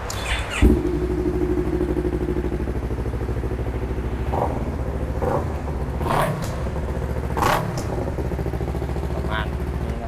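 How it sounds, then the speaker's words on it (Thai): A 2019 Yamaha YZF-R3 motorcycle engine runs close by with a steady idling drone, rising in a few short throttle blips. "เดี๋ยวลองฟังเสียงเครื่องยนต์กันดูนะครับ"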